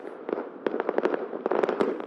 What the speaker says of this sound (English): Here, fireworks were let off from secret locations, so people wouldn't be tempted to gather outside.